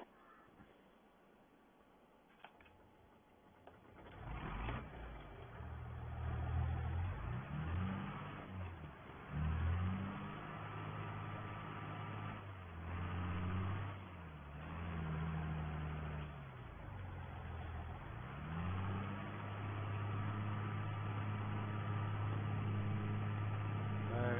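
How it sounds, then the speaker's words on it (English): A John Deere 3650 tractor engine idles and then revs in repeated surges, loud and close, with the pitch rising and falling as it runs. "give this tractor a bit of a run. It's going to be our carting tractor, this one."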